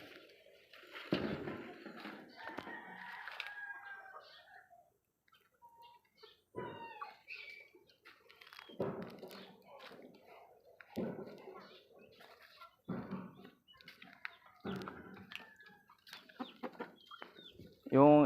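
Chickens cluck and call in short bursts around the yard, with other birds chirping and some talk in the background.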